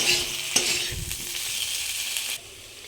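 Spice paste with chopped tomato being stirred and fried in a pan to cook down for a tangra fish curry, a steady close sizzle with a few spoon scrapes and knocks, no voices, ending with a sudden drop in level.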